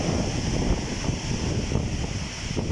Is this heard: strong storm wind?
yes